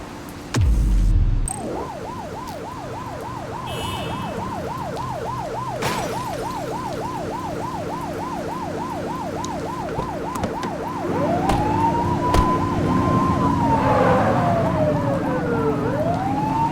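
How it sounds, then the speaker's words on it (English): Police car siren in the video game The Precinct, a loud close wail cycling rapidly in a steady yelp and then switching to slower rising and falling sweeps, over a low engine rumble. "You're only meant to use the siren in emergencies."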